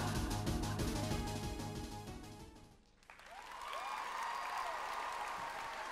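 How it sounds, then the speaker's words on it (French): Audience applause at a Japan Expo cosplay show after a performer dressed as a Pokémon character, with the clapping swelling in after loud stage music cuts off midway. "On l'applaudit bien fort, Cynthia de Pokémon, participante D3."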